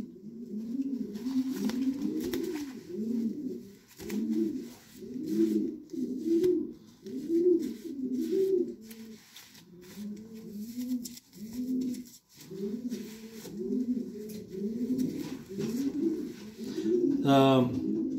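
Racing pigeons coo in repeated soft, throaty rolling phrases, steady and fairly close throughout, with a brief sharp rustle near the end.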